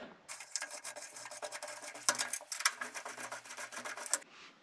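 The metal top panel of a freeze dryer is pulled back and lifted, producing a quiet, close run of scraping and rubbing strokes with faint clicks, no voices.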